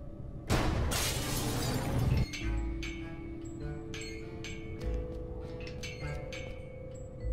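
Glass shatters in a loud, dense burst above a lab door in the Cthulhu adventure game Gibbous, followed by scattered small tinkling fragments and faint ambient tones.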